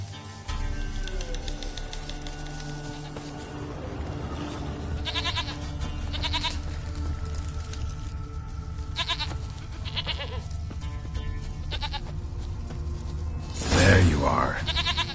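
A goat in The Witcher 3 bleats in several short, wavering cries over soft ambient game sound, with a louder, harsher burst near the end.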